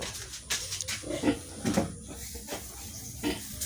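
A sow grunts several times close by, short low snorts spaced irregularly over faint background clatter.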